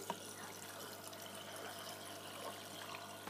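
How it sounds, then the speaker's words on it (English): Tank water being poured back into an Aqua One 750 series canister filter during maintenance, a steady, continuous watery pouring and trickling rush held close to the mic, with no talking. "Then what I do is I refill the canister with the tank water."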